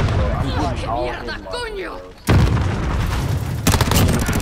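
Gunfire in Modern Warfare, loud bursts of shots and booms crashing in abruptly midway after someone talks, then continuing in rapid, dense volleys.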